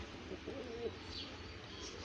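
Soft, low coos from fancy pigeons drift over a steady background hum, faint and somewhat distant.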